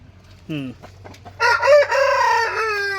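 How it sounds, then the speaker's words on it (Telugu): A short cluck, then a loud, close crow from a year-old rooster, long and wavering, trailing off at the end. "ఈ కోడి ఏంటమ్మా"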